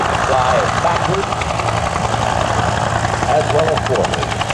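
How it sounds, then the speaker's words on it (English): A Bell UH-1 Huey helicopter drifts sideways during an air show demonstration, its steady rotor and turbine drone loud and continuous, with faint voices mixed in. "Showing you now the Bell Huey flying sideways."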